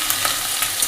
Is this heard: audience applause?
no